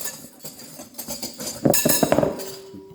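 Self-raising flour, salt and white pepper being mixed in a bowl, with light clinks and taps of a utensil against the bowl that grow busier and louder toward the end.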